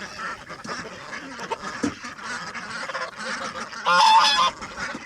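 Farm ducks and geese honking and quacking outdoors on their first snowy day, a busy cluster of calls with a louder, sustained honk near the end, fairly close.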